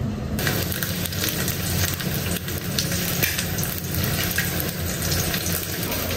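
An egg fries in a pan on a home kitchen stove, giving a loud, steady crackling sizzle that hisses without a break, with no voices.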